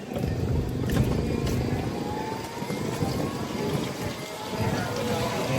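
Strong typhoon wind outdoors with rain driving onto surfaces, a loud, continuous roar and patter that surges and eases throughout, with voices faintly mixed in.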